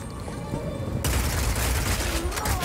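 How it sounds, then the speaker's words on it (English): Gunfire in the video game Path of Exile 2: a dense, continuous fusillade of rapid shots and booms that becomes suddenly louder and fuller about a second in and keeps going to the end. "this is fundamentally guns inside of PoE."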